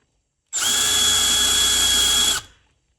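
A power drill spins a RoViar 3/8-inch countersink bit as it cuts a chamfer, giving one steady, loud high-pitched whine of about two seconds that starts abruptly and winds down at the end, with no talk.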